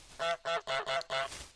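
Five loud, evenly spaced honks from the goose in Untitled Goose Game, each a short nasal blast in quick succession, close and alone with no talk.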